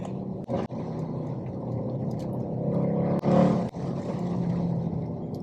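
A Mercedes C63 AMG W204 coupe with a 6.2 V8 and Milltek secondary decats gives a deep, rumbling engine drone. It swells and surges with brief sharp gaps, as if between gear changes, and no one speaks.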